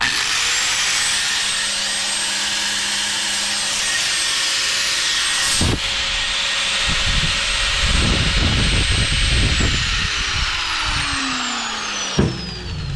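An electric grinder powered through a Deye solar inverter and lithium battery whines loudly and steadily, its pitch dipping and surging as it bites into material midway, then spinning back up before cutting off near the end.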